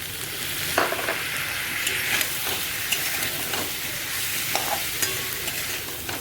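Tomatoes go into spices frying in a pan for a cauliflower curry, with a continuous sizzle and intermittent stirring scrapes of a spoon throughout.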